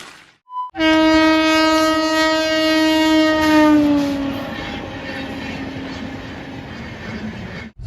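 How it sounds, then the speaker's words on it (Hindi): Train passing a railway level crossing on a road trip from Delhi to Nepal, opening with a loud, sustained horn blast that fades as the train moves on, over continuous rolling rail noise. "तो भाई ट्रेन तो चली गई"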